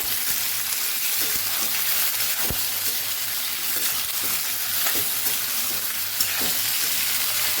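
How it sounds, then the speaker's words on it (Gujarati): Potato chips sauté in hot oil, giving a steady, close sizzle with a few sharp spoon scrapes and taps against the pan. "સરસ આપણે સાતળી લેવાની છે."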